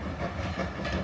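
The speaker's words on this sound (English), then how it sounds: "should be able to see the dining train come back here. It won't stop here" A dining train on the Esk Valley Line rumbles past with a steady, loud roar and faint wheel clatter, continuous and close throughout.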